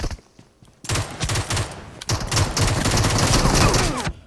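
Automatic gunfire from PUBG Mobile, a battle royale shooter, opens with a brief volley, pauses, then resumes as a long, loud, continuous burst of rapid shots lasting several seconds.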